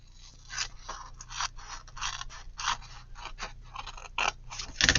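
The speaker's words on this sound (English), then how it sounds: "You cut that piece off." Scissors snip paper to make faux postcards, a rapid run of crisp cuts in irregular rhythm, close and clear with no speech, and a sharper rustle at the end.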